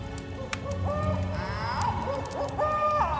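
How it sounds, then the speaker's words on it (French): An owl hoots in the trees at night, several clear repeated hoots over a steady background of night ambience. "Je peux même entendre un hibou qui hurle dans les arbres."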